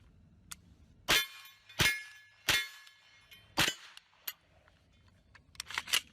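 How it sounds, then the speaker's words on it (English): Pistol fitted with a laser sight fired outdoors at a target: five sharp, loud reports spaced roughly a second apart, then a few fainter clicks and clatters near the end. "So let's take some shots."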